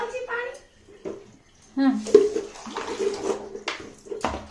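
Water splashes and pours over a young child being bathed at home, in uneven bursts close by, with people talking throughout.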